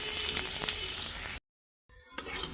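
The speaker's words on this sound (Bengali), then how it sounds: "তো তেল গরম হয়ে গেছে, পেঁয়াজগুলো আমি এখন সব দিয়ে দিব।" Onions frying in hot oil in a home kitchen, cooked in the style of a Bengali katla fish curry, with a loud steady sizzle that cuts out briefly and then resumes.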